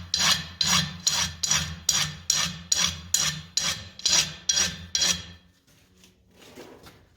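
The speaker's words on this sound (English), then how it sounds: "I'm going to clean it up with a rasp." A rasp scrapes a hot metal punch in about a dozen steady, even strokes, each a rough rising rasp, then stops and leaves a quieter scrape.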